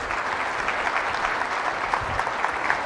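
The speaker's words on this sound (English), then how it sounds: "Let's give another round of applause for Miss Regina Phelps and Art Powers." Attendees at a business conference general session give a round of applause, a full, steady burst of many hands clapping at close range.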